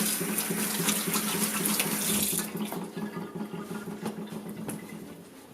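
Hands being washed under a running kitchen tap: a loud, steady rush of water for about two seconds, then a softer splashing flow as the hands move under the stream, close and with no talking.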